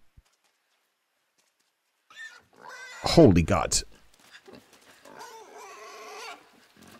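A pig in the video game Inside grunts and squeals in a loud burst after a quiet opening, with a man exclaiming over it.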